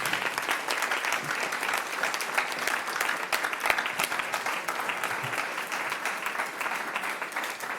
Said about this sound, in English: Can we have a round of applause, please, for our candidates?